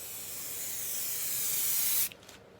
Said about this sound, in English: And spray over here, just over there, make sure it works. And I'm going to spray like that.